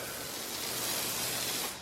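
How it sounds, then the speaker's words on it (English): Waterless car wash misted from a pump spray bottle onto car paint, one steady close hiss lasting nearly two seconds before tapering off, with no voices. "you pick it up and you spray it on the things that are dirty"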